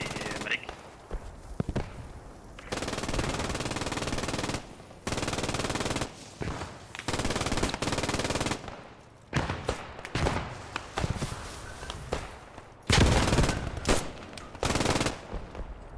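Bursts of MG42 machine gun fire in the Post Scriptum video game, with repeated loud volleys and short pauses between them, alongside other battlefield gunfire.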